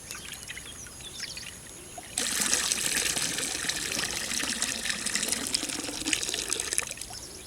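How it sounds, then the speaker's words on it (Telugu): Water trickles and swishes steadily, with a louder sloshing wash starting partway through, as rice is rinsed in a container of water. "బియ్యం దాంట్లో ఒక రెండు సార్లు కడుక్కొని"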